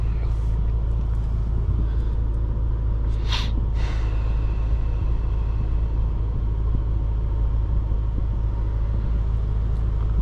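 A 2008 Bentley Continental GT gives a loud, steady low engine and road rumble heard from inside the cabin on a test run, continuous throughout with no clear rise or pause.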